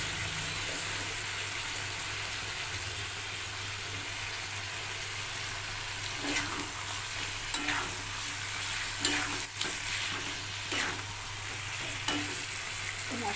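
Chicken fries in a pan after spiced water is poured in, giving a steady close sizzle broken by several scraping stirs with a spoon in the second half, with no talk.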